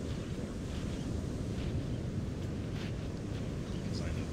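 Ocean waves wash onto a beach as a steady, full rush of surf and wind noise that continues without a break, with no clear talk.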